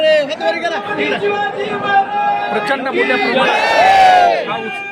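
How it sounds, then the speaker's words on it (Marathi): A large crowd of community members gathered at Antarwali Sarati, with loud massed voices chanting and shouting together throughout, a dense, continuous roar with rising cheers toward the end. "मोठ्या संख्येनं या ठिकाणी समाज बांधवांची गर्दी आहे"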